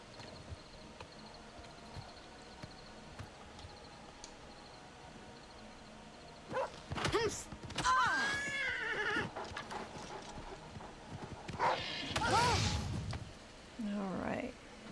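A horse in the video game Oblivion Remastered neighs and whinnies loudly, with clip-clopping hooves and rustling movement in bursts over quiet game ambience, and a voice talks briefly.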